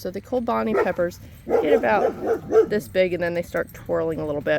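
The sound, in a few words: dog barking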